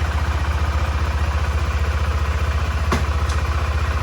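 A 2023 KTM 390 Adventure single-cylinder motorcycle engine idling steadily up close with a fast, even pulsing throb and a brief mechanical click partway through, no voices.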